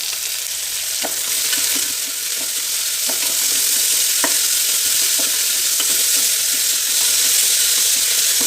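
Chopped onion sizzles in hot oil as it is stirred in a pan while cooking a prawn dish, a steady close frying hiss with faint spatula scrapes and taps spaced through it, no voices.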